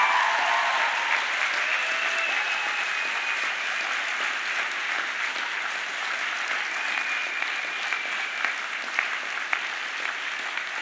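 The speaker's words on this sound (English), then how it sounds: "you give a big round of applause to all those people who have" Applause for a graduating class of 2018 at a ceremony, a large crowd clapping continuously and densely with a few faint whistles, loud and sustained throughout.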